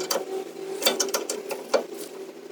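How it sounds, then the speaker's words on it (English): Caliper and housing bolts tightened on the rear brakes of a 2017 Ford F-150 XLT: close, rapid ratcheting clicks over a faint hum, with a couple of sharper knocks and no talking. "now we'll just put some tightening on all of the bolts that hold on the housing as well as the caliper"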